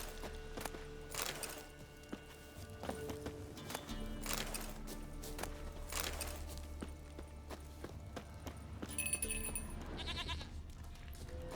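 Goat bleats sound several times in the video game The Witcher 3 over a steady game backdrop with music and hoof-like clops, each bleat short and fairly close.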